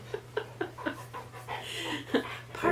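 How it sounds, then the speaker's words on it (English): A puppy, the youngest of five dogs in the house, pants in quick rhythmic bursts close by, with a few soft whimpers and breathy gasps mixed in over a steady low hum. "Pardon my puppy."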